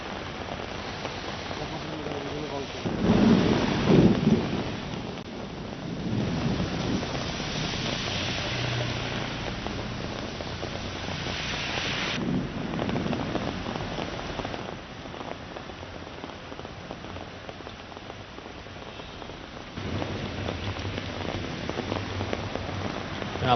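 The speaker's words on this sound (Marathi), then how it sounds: "पुण्यामध्ये हा पाऊस बरसतो आहे." Heavy unseasonal April rain with hail in places pours over the Shivajinagar area of Pune, a steady, dense hiss of rain on surfaces that continues throughout, with a brief louder burst early on.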